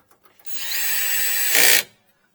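A single short burst from a cordless power drill set to a low torque setting drives a screw under the air dam of a 2021 Ford Bronco Sport, a close whir that rises and then cuts off abruptly, with no talking.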